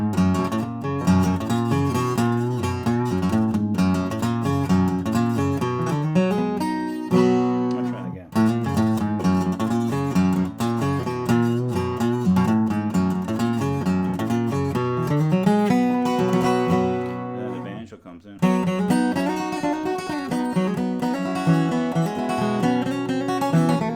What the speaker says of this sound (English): there's a break that the guitar player does, sounds like this